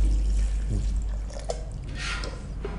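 Water pours and splashes into a mixer jar close by, a short steady gush with faint dribbling, and a voice murmurs briefly.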